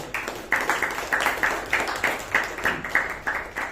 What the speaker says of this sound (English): So a huge round of applause to her